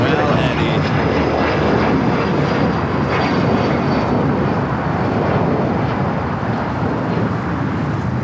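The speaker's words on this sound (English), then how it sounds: "A321neo, United Airlines flight 2240 coming in from Denver" A United Airlines Airbus A321neo arriving at LAX from Denver roars loudly and continuously on its landing, a dense engine rush filling the whole clip with a faint high whine above it.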